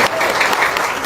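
Loud, dense applause from an audience at a motivational talk, a brief burst of many hands clapping close and strong throughout.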